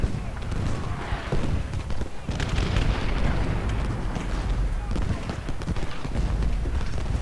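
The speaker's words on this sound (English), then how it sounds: "we'll move over here and start firing on Ruger" Musket and artillery fire from the Civil War strategy game Ultimate General Gettysburg, a dense, continuous battle din of rumbling booms and crackling shots with clattering hoofbeats mixed in, loud throughout under occasional talk.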